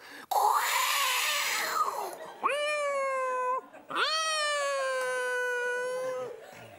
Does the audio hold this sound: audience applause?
no